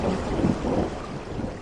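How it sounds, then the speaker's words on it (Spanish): Thunderstorm effect under a spooky narrated tale: a continuous low rumbling roar mixed with wind and rain noise, loud and steady throughout. "mientras afuera la tormenta empeoraba."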